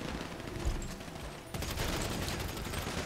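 Sustained rapid gunfire rattles through a firefight in GTA V Online, loud and dense for the whole stretch, briefly dipping before resuming.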